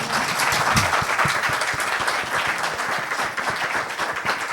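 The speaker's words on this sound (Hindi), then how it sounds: "मेरे दोस्त के लिए बहुत तालियां बजाएं।" A concert audience gives a musician steady, dense applause after a bansuri flute performance, a continuous even wash of many clapping hands that holds throughout.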